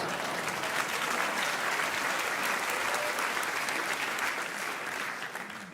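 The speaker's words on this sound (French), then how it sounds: "applaudis si tu veux, voilà" A theatre audience at a stand-up comedy show applauds in a full, continuous wash of clapping that holds steady for several seconds and tapers slightly at the end.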